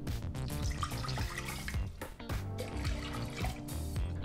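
Water poured into a pressure cooker, about one and a half cups for moong dal saagu, giving a continuous splashing gush that runs steadily for several seconds.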